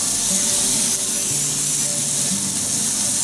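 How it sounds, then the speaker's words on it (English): Cooking oil spray hisses continuously over chicken kebabs, steady and close, with faint sizzling underneath. "We want to spray a little bit of oil on the top,"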